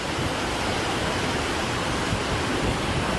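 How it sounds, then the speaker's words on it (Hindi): Floodwater rushing through an overflowing drain, a loud, steady roar of churning water that fills the whole clip without a break. "नाला उफान पर आ गया।"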